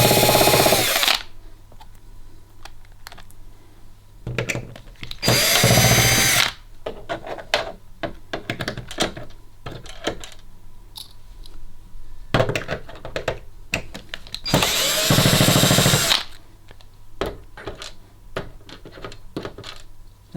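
Three loud bursts from a power screwdriver, each one to two seconds long, backing screws out of the board inside an LG OLED 55B7A TV, with close clicks, taps and small metal clinks of screws between the runs.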